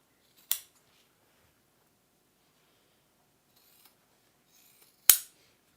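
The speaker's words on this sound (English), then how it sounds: "A nice sharp pair of scissors" Sharp scissors snip through velvet fabric while a slouchy bag is being sewn, two crisp isolated cuts several seconds apart in an otherwise quiet room, with faint small clicks between.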